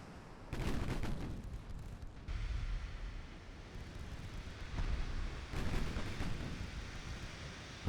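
Battleship main guns boom in the naval strategy game Ultimate Admiral Dreadnoughts, a 1946 Ottoman campaign: loud, deep broadband blasts near 0.5, 2.3 and 5.7 seconds over a constant rumbling roar of battle, with no voices.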